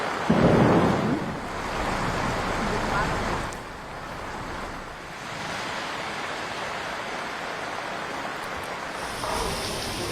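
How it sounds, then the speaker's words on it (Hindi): Heavy rain pours down during a thunderstorm in Delhi, a dense, loud roar of rainfall with a rumbling burst near the start, then continuing as a steady broadband wash. "राजधानी दिल्ली में भी कैसे तेज बारिश हो रही है"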